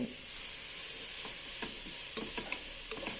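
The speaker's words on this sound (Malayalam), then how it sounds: "കുരുമുളക് പൊടി ചേർത്ത് കൊടുത്ത് ഇതൊന്ന് സോട്ട് ചെയ്തെടുക്കാം." Fried rice with black pepper powder is sautéed in a pan. Quiet sizzling runs underneath a few scraping spatula strokes that cluster toward the end.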